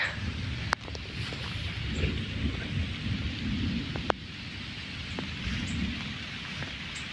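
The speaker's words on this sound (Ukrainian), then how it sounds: "Трошки у нас паде дощ." Steady rain patters and hisses throughout, with a few sharp drips or taps standing out now and then against the continuous wash.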